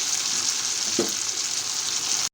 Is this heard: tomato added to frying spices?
yes